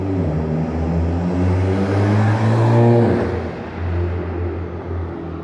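A Mitsubishi Evo X engine revs up steadily, its pitch climbing to a peak before dropping back, then settling into a lower rumble; loud and close, no talking.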